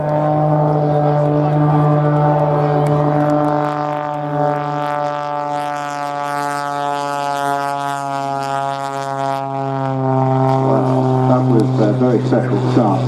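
A Pitts S-2S aerobatic biplane at an air show at Scampton produces a loud, buzzing harmonic engine drone that wavers in pitch as it passes overhead, while commentators talk over it.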